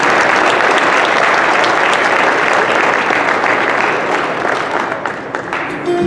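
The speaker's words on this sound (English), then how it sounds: "show your appreciation by giving a big round of applause for" Crowd in a high school basketball gym applauding the game officials, loud sustained clapping filling the space, easing slightly near the end.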